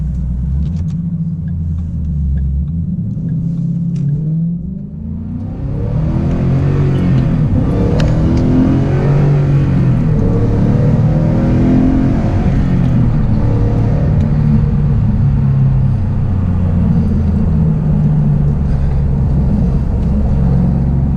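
A 2013 Ford Mustang with a Roush supercharger idles low, then revs up and holds a loud, rough roar with rising and falling rumble, close by.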